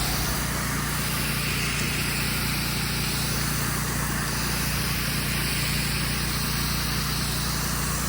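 A pressure washer rinses a driveway after a Zep degreaser treatment, its steady motorized drone and hissing spray running continuously and fairly loud without a break.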